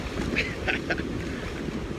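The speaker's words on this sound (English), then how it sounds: "Look at these waves." Ocean waves on a shore in fine weather, a steady rushing wash with heavy wind buffeting the microphone and a few faint higher sounds mixed in.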